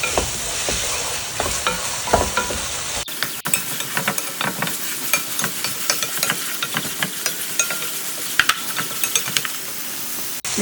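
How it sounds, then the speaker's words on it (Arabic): Onion frying in a little oil in a pan gives a continuous close sizzle, with repeated scraping stirs and a brief drop in the hiss partway through. "حطينا البصل الرومي مع شويه زيت"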